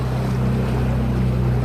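An Etec 30 HP outboard motor runs in gear on a rough river, a loud, steady low drone with water and wind noise mixed in, no talking.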